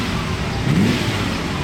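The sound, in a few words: Lamborghini car engine revving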